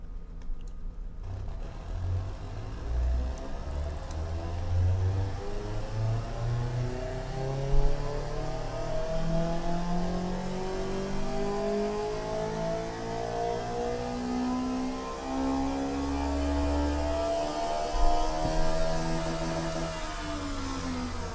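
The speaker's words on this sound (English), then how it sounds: "So this is what I call a high revving performance engine." The AMW Mamba's high-revving performance engine in the racing sim Automation climbs repeatedly through the revs, rising harmonic whines sweeping upward with brief drops between shifts, loud and continuous with no talk.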